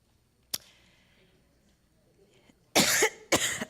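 An older man gives one short cough, then two stronger harsh coughs close by, with quiet breathing in between.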